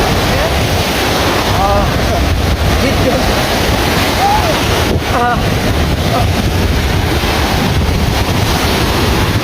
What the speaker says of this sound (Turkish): Çok güzel dalgalar var.